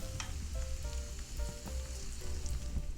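Cabbage pancake batter frying in a pan of hot oil, giving a steady close sizzle and crackle with small pops that keeps going without a break.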